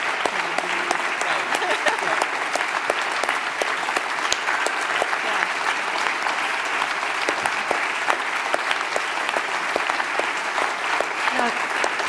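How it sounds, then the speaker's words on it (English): Sustained audience applause at the Martin Ennals Award Ceremony, loud and continuous with sharp individual claps standing out across the whole stretch. "So Nabil did not hear the applause at the time, and now you've heard it."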